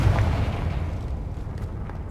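A Confringo fire spell explodes in Hogwarts Legacy: a low boom at the start that fades into a dull rumbling tail, fairly loud and heard alone.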